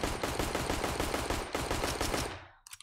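Rapid Glock pistol fire in Counter-Strike, a dense run of close, loud shots lasting over two seconds before breaking off abruptly, with no voices.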